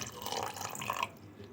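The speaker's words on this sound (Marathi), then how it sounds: "आता यामध्ये थोडंसं पाणी घालून घेऊया" Water poured into a bowl of yogurt and flour dough, a brief soft splashing trickle with a little drip toward the end.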